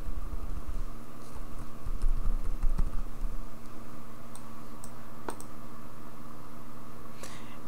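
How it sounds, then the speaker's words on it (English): Close, quick typing of an email address on a computer keyboard, with a dense burst of clicky keystrokes that thins into a few scattered taps, no talking. "So I'll just type in my email address."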